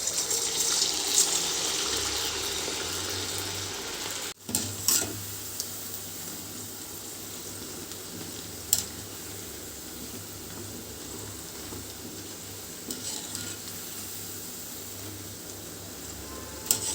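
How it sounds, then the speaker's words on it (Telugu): Battered gobi (cabbage) deep frying in hot oil, a steady loud hiss and sizzle with occasional crackles and pops, no talking. "మనము ఇప్పుడు డీప్ ఫ్రై చేసుకుందాం. ఆయిల్ హీట్ ఎక్కింది."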